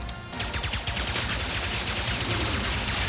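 Rapid burst fire from a shotgun-style pistol in Ratchet & Clank: Rift Apart, a dense, continuous barrage of overlapping blasts and clatter that stays loud throughout with no voice.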